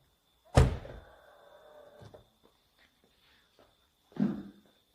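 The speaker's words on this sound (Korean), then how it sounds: "사람이 탑승을 하기 위해서 문을 열면 조수석도 이제 오픈을 하게 됩니다." Hyundai Palisade door opening with the power side step deploying: a sharp close thunk, then a brief motor whir fading out, and a second softer thump about three seconds later in a quiet setting.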